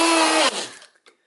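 A Milwaukee M12 1/4-inch cordless angle grinder fitted with a small 2-inch die-grinder disc whines loudly at speed 4 for about half a second, then spins down and fades out, with a faint click near the end.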